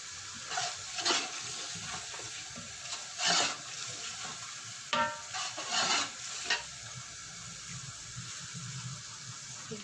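Chicken and masala being stir-fried in a pan for a Lahori murgh cholay dish: a soft continuous sizzle broken by several scraping stirs of a spoon against the pan, close and fairly quiet, with no voices.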